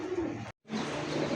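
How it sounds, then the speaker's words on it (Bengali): A pair of cream-coloured High Flyer pigeons coo close by, soft repeated calls running on either side of a brief silent gap. "খুব সুন্দর ঘিয়া কালারের মধ্যে একজোড়া হাই ফ্লাওয়ার কবুতর"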